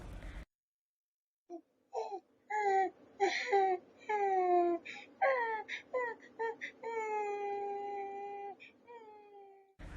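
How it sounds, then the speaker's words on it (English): A child cries inside a cottage in a fable setting, a series of rising and falling wailing sobs in uneven bursts, close and fairly loud after a brief silence at the start. "he heard the child crying in the house"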